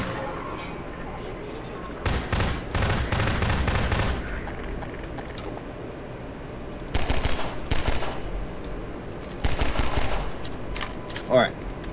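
Bursts of rapid automatic gunfire in Half-Life 2 come in several separated volleys, loud and crackling, with quieter background noise between them.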